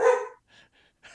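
A dog barks several times: one louder, fuller bark first, then three fainter, short barks at moderate distance, with brief silences between them.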